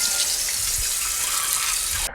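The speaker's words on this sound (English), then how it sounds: "and give a really good rinse." Hot tap water rinsing a cast iron pan, a steady close hiss and gush of running water that stops abruptly at the end.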